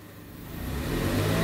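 A stock Toyota Raize engine revving under light throttle, with a steady mid-pitched hum that grows a little louder over a brief moment, heard close with no talking.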